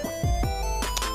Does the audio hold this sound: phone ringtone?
yes